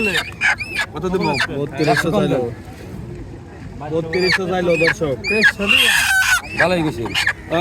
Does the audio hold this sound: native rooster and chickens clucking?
yes